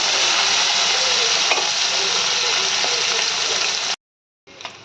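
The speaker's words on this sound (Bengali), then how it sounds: "মাছগুলো সব লাল লাল করে ভাজা হবে" Fish frying in hot mustard oil in a wok, a loud dense continuous sizzle with a few spits, cutting off abruptly near the end before a brief quieter return.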